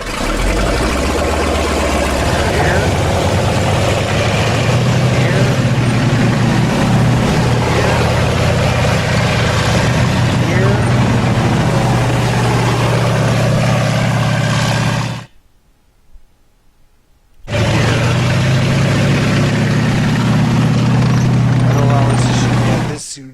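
A military vehicle engine in a video game runs with a loud, steady rumbling drone, cuts out briefly to near silence, then comes back at full level.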